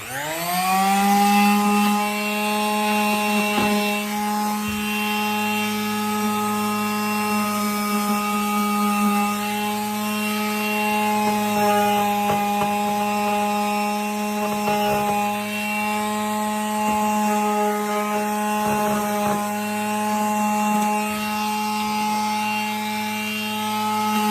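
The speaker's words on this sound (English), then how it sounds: "Now along these edges right here, your orbital sander works real nice." An orbital sander working over kitchen cabinet edges produces a loud, continuous close-up whine with a steady tone, with slight shifts in pitch and scraping texture as it moves across the wood.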